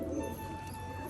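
Rajshahi pigeons cooing softly in a low, rolling murmur, a brief quiet burst heard close by.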